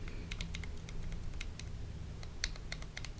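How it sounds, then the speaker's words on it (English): Typing on a keyboard fitted with Bsun brown tactile switches: a steady run of quick, light, clacky keystrokes at a moderate pace, close and alone. "This is the Bsun brown switch that you can buy on 1UP keyboards."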